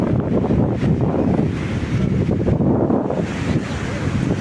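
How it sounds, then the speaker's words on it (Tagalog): Loud, continuous rush of surf and rough water with heavy wind buffeting the microphone, no clear voices. "Mabalud ang dagat"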